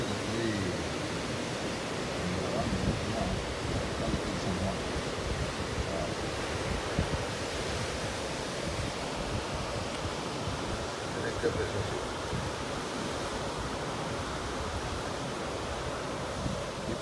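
Surf rolling onto the beach at Isla Verde, Carolina, Puerto Rico, a continuous wash of waves mixed with gusting wind buffeting the microphone, steady and fairly close, with no clear speech.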